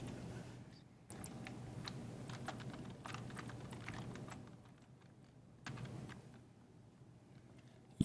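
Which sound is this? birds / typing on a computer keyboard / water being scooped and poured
typing on a computer keyboard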